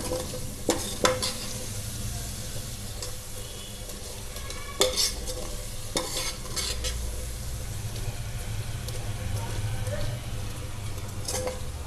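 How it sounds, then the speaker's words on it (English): Cooked, mushy vegetables are mashed in a pan for an Andhra village-style fish curry, with a continuous soft sizzle and scattered sharp clinks and scrapes of a utensil against the pan. "mash them like this."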